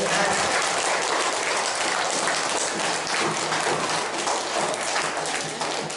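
Schoolchildren clap together in a dense, continuous burst during a Ramadan religious lesson, loud and sustained like heavy rain, with a faint voice mixed in.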